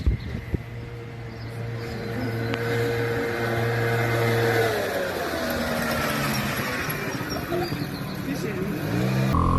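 Cars and a scooter move through city traffic, engines humming and revving as vehicles pass close by. Someone talks over the traffic noise.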